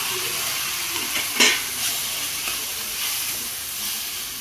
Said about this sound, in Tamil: இந்த கட் பண்ணி வச்ச தக்காளியை உள்ளே ஆட் பண்ணிக்கலாம்